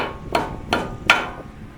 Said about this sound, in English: I'm just gonna hammer a socket on there.